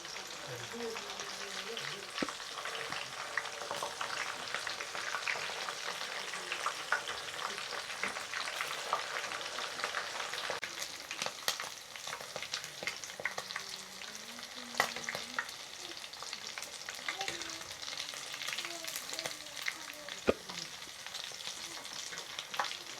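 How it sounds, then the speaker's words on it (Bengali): Rupchanda pomfret fries in oil in a pan over medium heat, giving a steady close sizzle with occasional crackles, under faint intermittent talk. "আপনারা এপিট ওপিট করে মাছটা অবশ্যই লাল করে ভেজে নেবেন"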